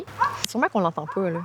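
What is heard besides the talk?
small dog barking at a dog park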